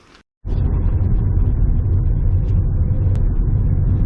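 A Chevy Cobalt car driving, a loud steady engine rumble with road noise that starts abruptly after a brief quiet moment and holds evenly, close to the microphone.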